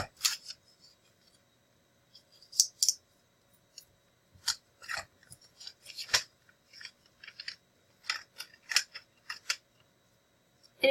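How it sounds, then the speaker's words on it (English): Small scissors snip paper in quick, crisp cuts, some in pairs, scattered across the stretch with brief quiet gaps; close and fairly soft. "just lop off those tips there"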